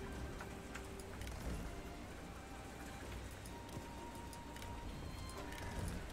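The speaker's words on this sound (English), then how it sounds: "a little bit of heavy rain outside where I am," Rain falls steadily outside, a constant wash of hiss with scattered drips and ticks, fairly faint and unbroken throughout.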